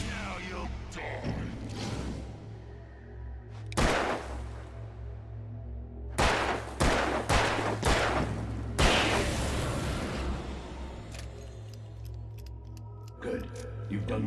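Gunshots ring out in Alan Wake, several sharp broadband cracks spaced irregularly over a low droning game ambience, with a voice speaking between some of them.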